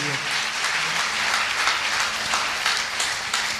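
Audience applause at a Safe Shop business event, a steady dense wash of many hands clapping throughout, loud and continuous with a faint hum underneath.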